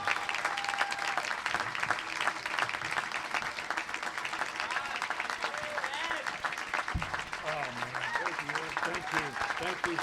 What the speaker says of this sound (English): I want us all to stand ovation, please